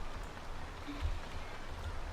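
Steady rain falls in The Sims 3, a soft, even hiss that carries on without a break and stays faint and distant, with no voices.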